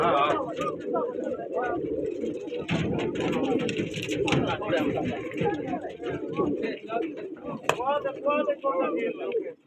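Pigeons coo and flutter in a dense, busy chorus at a pigeon competition in Taunsa Sharif, with people talking and counting over the birds nearby.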